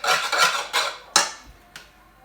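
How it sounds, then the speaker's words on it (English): A spoon stirs salted rice in a pot, giving a few bursts of scraping and clinking, with two sharper knocks against the pot as the stirring fades. "We just add some more salt to our rice. Give it a wee stir."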